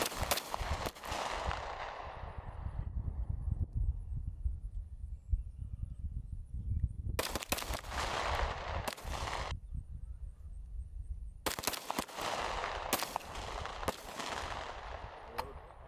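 Rifle shots at an Army infantry division's squad shooting competition arrive in three separate clusters of sharp cracks. Each cluster echoes outdoors, with quiet gaps in between.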